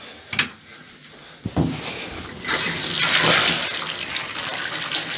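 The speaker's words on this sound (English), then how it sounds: "Actually going to open both bathtubs and show you that flow" Water gushes into a bathtub from a wide-open tap fed by 2.5-inch pipes, starting with a few knocks and clunks before a loud, steady broadband rush builds and holds.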